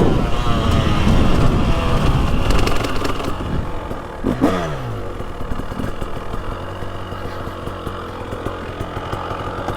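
A 2023 Husqvarna TX300 Heritage Edition two-stroke dirt bike with throttle body fuel injection, ridden in fall woods, revs loudly and close at first, then settles into a steadier idle with brief throttle blips.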